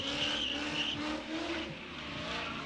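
A drift car slides at a drift pit event, its engine roaring as the tires squeal in long, loud sustained bursts at close range.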